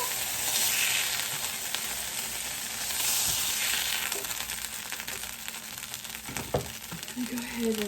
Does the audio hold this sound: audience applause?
no